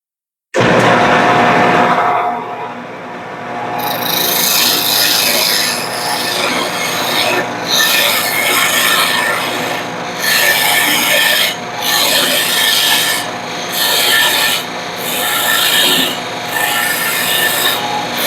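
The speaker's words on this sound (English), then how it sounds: "now we're just going to do parting cut in each of these" A lathe parting tool cuts a parting groove into spinning wood, a loud continuous scraping rasp that holds steady for most of the span, with short regular dips as the tool is eased and pressed again.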